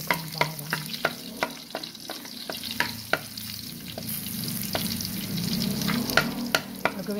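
Garlic fries in oil with a soft, steady sizzle. Sharp utensil taps against the pan come a dozen or so times at irregular intervals.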